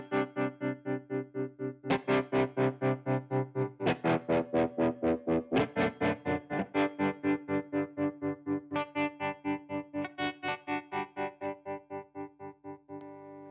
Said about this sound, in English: next is the Matthew Effects Conductor, which is a Tremolo style pedal. This is what it sounds like.